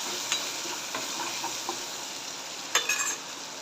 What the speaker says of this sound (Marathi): कांदा आणि टोमॅटो टाकून घेते फिरून घेते याला व्यवस्थित